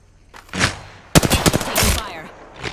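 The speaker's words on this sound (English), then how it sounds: "Taking fire. Opening fire." Bursts of automatic gunfire from the Apex Legends battle royale game, a short rapid volley followed by several sharp shots, mid-distance and moderately loud, with game effects and a brief voice line around them.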